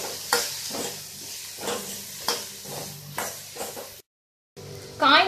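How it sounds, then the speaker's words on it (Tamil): Green beans and carrots sautéing in a pan, a steady sizzle broken by repeated stirring strokes, followed by a brief gap and then a louder burst of frying. "நல்லா வதக்குங்க."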